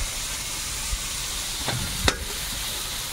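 Meat sizzles steadily in a hot pan while a spoon scrapes and stirs it in a few brief clacks, close and continuous.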